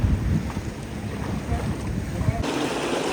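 A canal cruise boat passes on an Amsterdam canal during a hop-on hop-off tour, a steady close rumble of engine and water with wind buffeting the microphone, unbroken for a few seconds.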